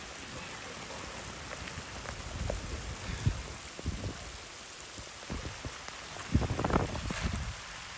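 Heavy tropical downpour during diamond mining in Kalimantan, Indonesia: a steady broadband rush of rain drumming on surfaces, with louder swells of pattering near the end, no voices.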